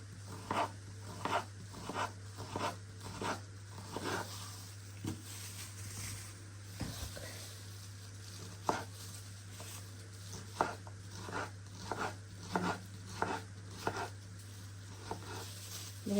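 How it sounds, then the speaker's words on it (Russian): A knife slices tomatoes into rounds on a board, giving irregular soft taps and cuts over a constant low electrical hum in a home kitchen. "Теперь надо нарезать кружочками помидорки"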